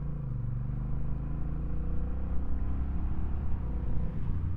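A Honda Rebel 1100 DCT motorcycle engine drops through gears as the bike brakes, a low rumbling drone whose pitch slides downward and steps, steady and close, with no talking.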